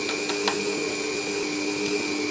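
A Kerch Ferro White 1700 W stand mixer runs at a higher speed, producing a steady, loud motor whine with a constant tone and faint rhythmic ticking beneath it.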